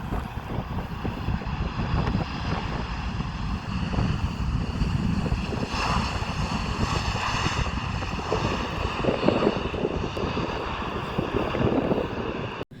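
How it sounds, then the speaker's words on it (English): Cargolux Boeing 747 cargo jet landing at Schiphol airport, a steady loud roar of jet engines with a whining hum, buffeted by wind noise throughout, no talking. "right now our first jumbo jet aircraft is coming in for a landing, this time a 747 from Cargo Leaks"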